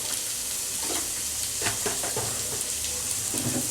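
Two chopped onions fry with salt in hot oil in a pan, a steady close sizzle broken by stirring scrapes and clinks, with no talking.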